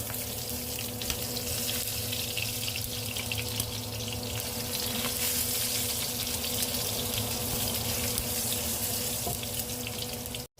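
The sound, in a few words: garlic frying in hot oil in a pan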